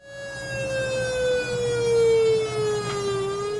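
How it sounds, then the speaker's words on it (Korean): An air raid siren wailing through village loudspeakers on Ulleungdo island, one long sustained tone with rich harmonics that slowly drifts downward in pitch, loud and alone. "공습경보 사이렌은 울릉도 마을마다 설치된 스피커를 통해 2분여간 울렸습니다"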